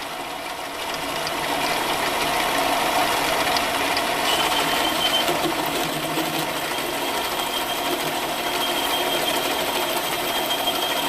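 A lathe steadily cuts an aluminum faceplate, taking a ten-thousandths pass, producing a continuous whirring machine drone with a faint metallic edge that rises after the first second and holds evenly throughout.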